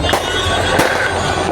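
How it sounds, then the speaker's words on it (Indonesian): Fireworks burst at an outdoor New Year celebration in Simpang Lima, with a steady roar of crowd and crackle and a couple of sharper pops standing out at the start and near the middle. "kembang apinya bisa kita nikmati karena kembang apinya cukup besar"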